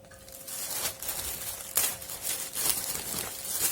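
Someone opens a package with scissors, making faint crinkling, rustling and tearing with a few sharper snips and crackles close by.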